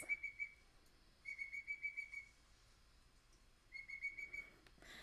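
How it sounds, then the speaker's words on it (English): An ashy robin's thin, high whistled call repeats in three separate phrases of rapid trilled notes, with quiet pauses between, recorded outdoors at low volume. "So here is, for instance, the ashy robin. I think it'll, yes, there it is."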